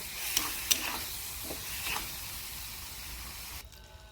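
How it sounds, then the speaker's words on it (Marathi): Masoor dal tipped into a hot pan for zhinga dal and stirred, giving a few brief scraping clatters and soft sizzling hiss that fades to quiet near the end. "आता आपण याच्यामध्ये मसुराची डाळ घालूया."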